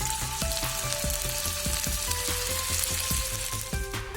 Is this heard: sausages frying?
yes